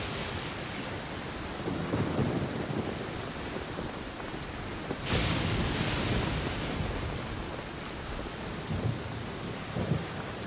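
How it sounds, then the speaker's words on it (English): Rain and thunder in the video game Genshin Impact: a continuous soft hiss of rainfall with low rumbling thunder rolling through at intervals and a brighter swell of rain midway, moderately quiet with no voices. "It's raining again."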